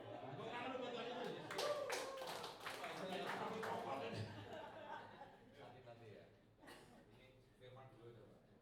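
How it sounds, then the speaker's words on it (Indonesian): A congregation at a church gathering claps for Jesus, a dense burst of applause that swells and then thins into scattered claps, with chuckles and voices talking over it. "Tepuk tangan dulu buat Tuhan Yesus."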